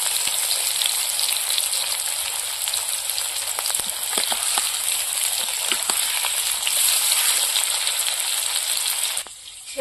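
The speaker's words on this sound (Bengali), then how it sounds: "এবার ওই তেলের মধ্যে আলুগুলো ভেজে নেব।" Boiled potatoes fry in hot oil with turmeric, giving a loud, steady sizzle with scattered pops and crackles that continues nearly without a break before cutting off sharply at the end.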